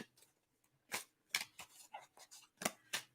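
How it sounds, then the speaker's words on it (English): A deck of tarot cards being shuffled by hand: quiet, close riffling bursts and snaps arriving in irregular short clusters with brief pauses between. "just shuffling the cards"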